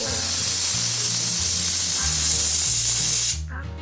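A pressure cooker whistles loudly as it vents steam while fish biryani cooks, a steady hissing jet with low pulsing tones that runs for over three seconds before cutting off abruptly.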